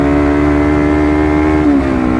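A Honda CBR250RR in sport mode revs steadily and loudly close by, its engine tone holding high before the pitch drops briefly near the end, with no talking over it.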